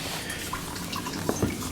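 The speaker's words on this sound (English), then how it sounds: "You can see water dripping in as we speak." Water dripping into a 5-gallon jug reservoir for a saltwater aquarium auto top-off, with two or three soft, close drips over a faint background hiss.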